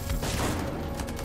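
Shotgun fire in the Xbox One X game Anthem, a dense burst of blasts crowding a short moment and sounding loud and close.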